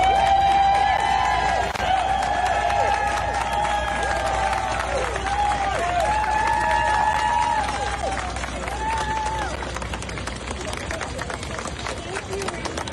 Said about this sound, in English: Protesters are clapping as the fired employees leave the building with their suitcases and belongings